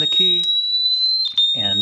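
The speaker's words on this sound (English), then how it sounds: "Now you can see the very loud alarm." The motion-detector anti-theft alarm on an R&M Culture upright Bosch eBike, sounding as a loud, continuous, piercing high-pitched tone while someone speaks over it nearby.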